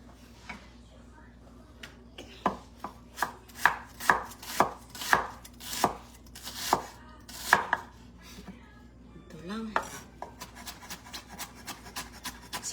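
Onion being chopped on a cutting board, a series of sharp, evenly spaced knife strikes, close and fairly loud, easing into quicker, softer cuts toward the end with faint background voices.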